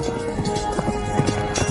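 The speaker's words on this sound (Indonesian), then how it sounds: "Kakak kedua, cepat naik kuda." Horse hooves pound in a quick, uneven galloping rhythm during a kung fu action scene. The clip-clop beats come in close succession over a busy, noisy background.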